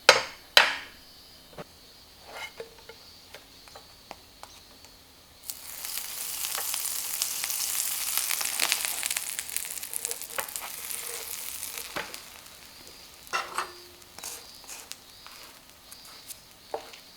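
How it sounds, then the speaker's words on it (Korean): Sliced bread toasts on both sides in a buttered pan over low heat, a hissing sizzle that swells in the middle and sits between sharp clatters and taps of handling at close range. "팬에 버터를 바르고 식빵 양면을 약불에서 노릇하게 굽는다."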